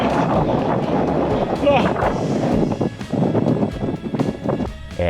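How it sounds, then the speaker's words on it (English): Strong, gusty wind roars across an outdoor running camp, buffeting the microphone in loud rumbling surges that swell and ease, while people talk over it. "Tough winds out, hurricane gusts,"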